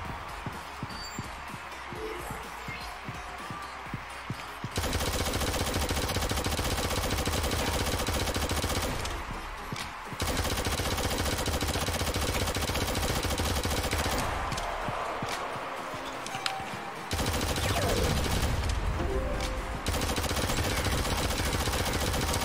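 Sustained automatic gunfire rattles in long, dense bursts during a Shadowgun Legends match, with short gaps between volleys and faint scattered shots in the quieter stretches.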